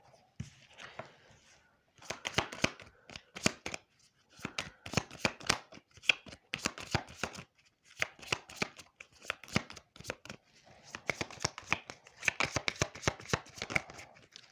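Tarot cards shuffled by hand in repeated riffling bursts of crisp flicking snaps, close and fairly loud, with brief pauses between rounds and no talking.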